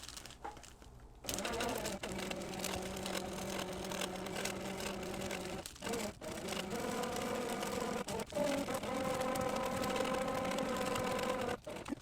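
Sewing machine stitching in the ditch through paper foundation on a quilt block, a steady mechanical whir with a fast rhythmic needle pulse, running continuously with short pauses and close to the listener.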